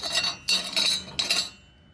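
A Tamplar 55 amp plasma cutter slicing through 14 gauge steel gives three close, bright hissing bursts with a high whine, separated by short gaps, before fading out.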